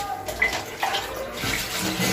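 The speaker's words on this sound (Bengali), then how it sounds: "শিরা বানানোর জন্যে আমাকে এখানে জল দিয়ে করে নিতে হবে" Water is poured into a pan to make sugar syrup, a close, continuous splashing stream lasting about two seconds.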